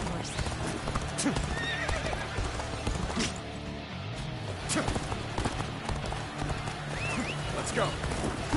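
A horse gallops with steady clip-clop hoofbeats and neighs in the Dynasty Warriors: Origins video game, set against battle noise and music, with a voice speaking briefly.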